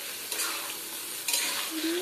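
Eggs and potatoes sizzle loudly in pungent mustard oil, a continuous close frying hiss broken by a couple of brisk stirring scrapes.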